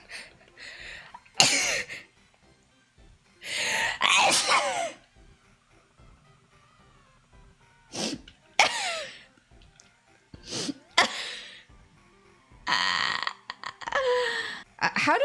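Several sharp, explosive bursts close to the mic, separated by pauses of quiet, like repeated sneezes or sneeze-like fits.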